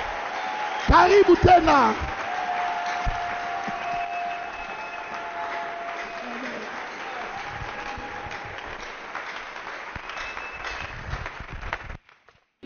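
Church congregation clapping and cheering in a burst near the start, then settling into a steady murmur of crowd noise with someone speaking over it.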